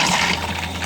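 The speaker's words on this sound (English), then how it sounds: "Look at that, water flows like it should." Water rushes steadily through a replacement water valve in an RV toilet, a continuous hissing flow heard close up without any talking.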